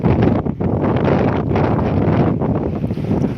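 Strong December wind buffets the microphone on an outdoor walk near Withernsea, a loud, continuous roar with gusting surges and dips, no voices.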